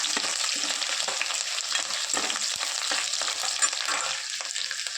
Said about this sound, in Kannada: ಈಗ ಬೆಳ್ಳುಳ್ಳಿ ಮತ್ತು ಕರಿಬೇವನ್ನ ಒಟ್ಟಿಗೆ ಹಾಕಿ ಎಣ್ಣೆಲಿ ಹುರ್ಕೊತಾ ಇದ್ದೀನಿ.